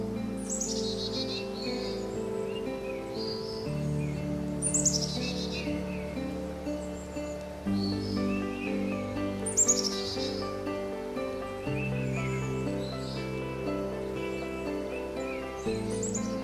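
Pet pigeons at a backyard nest give soft repeated cooing in a steady looping rhythm, with occasional brighter chirps from other birds, close and moderately loud, with no one speaking.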